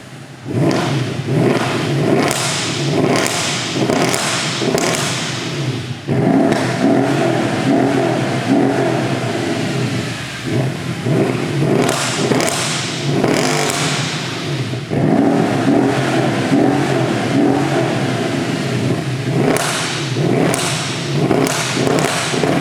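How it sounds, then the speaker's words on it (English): A Mercedes-AMG V8 engine revs hard and repeatedly, deep and loud, rising and falling with each blip of the throttle. "The exhaust sound of an M156 powered car will simply be better than the 157"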